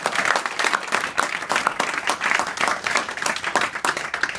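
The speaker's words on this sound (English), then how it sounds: "Shall we give Nathan a round of applause?" Wedding guests applaud at a ceremony, a loud, dense burst of many hands clapping together, sustained and even throughout with no talk.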